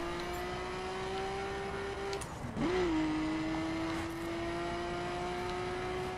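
A car in The Crew racing game driven fast along a coastal road, its engine drone holding a steady pitch, dipping briefly on a gear change and then climbing again, loud and continuous with no speech.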